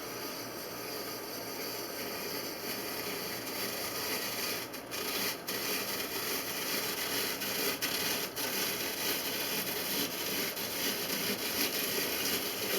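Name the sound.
apple peeler turning and cutting peel off apple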